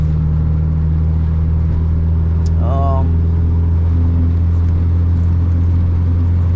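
Honda EK hatchback with an H2B engine swap driving, a loud steady engine drone heard from inside the car, with a brief rising whine midway.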